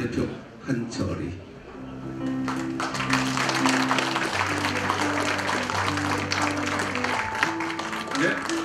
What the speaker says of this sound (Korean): 더 큰 박수 부탁드리겠습니다.